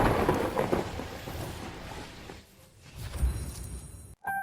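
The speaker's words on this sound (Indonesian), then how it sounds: "Begitu dewa datang hari ini, langsung turun hujan deras." Heavy rain pouring down with rolling thunder, a dense wash of downpour that rumbles and swells, thins briefly in the middle, then builds again before a sudden dropout near the end.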